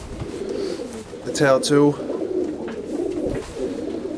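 A racing homer pigeon hen gives a short two-part coo, close and clear in the middle, while someone talks quietly around it.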